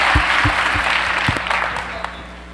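A crowd at a Mitt Romney event in Fargo, North Dakota applauds loudly, dense clapping with a few heavier thumps, gradually tapering off.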